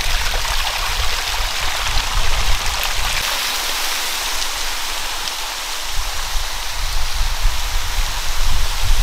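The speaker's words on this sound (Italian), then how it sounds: "Andiamo a fare un po' di ASMR di suono di acqua che cade." Water pours down at a sunny waterfall in a constant dense hiss and splash, close and loud, with no talk.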